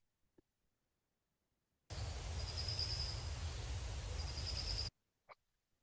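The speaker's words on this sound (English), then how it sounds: "that sounded like a powerful owl chick to me" Powerful owl chick calling in a field recording: a single harsh, hissing call lasting about three seconds, fairly close and clear against a quiet background.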